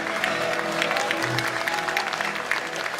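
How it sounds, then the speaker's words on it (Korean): Audience applause at the launch ceremony of the United Future Party on a snowy day, a steady, moderate clapping from a crowd, continuous throughout with a faint low hum beneath. "큰 박수로 맞아주시기 바랍니다."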